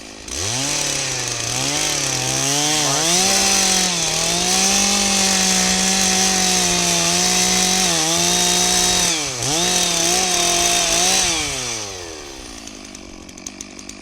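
A Stihl MS 660 chainsaw runs loud and close with a steady high engine drone, dipping and revving as it bogs in wood, then winding down to idle near the end.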